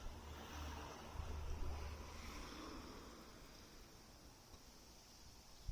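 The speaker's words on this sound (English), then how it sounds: "boy, has that wind come up" Steady wind blows outdoors after dark, a broad rushing roar with low gusty rumble that swells early and then eases slightly, with no talking.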